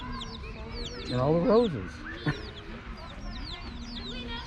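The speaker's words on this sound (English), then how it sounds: "The nearby park was full of chickens" Chickens cluck in a park, repeated short clucks and calls scattered throughout, with birdsong in the background and a person speaking briefly over them.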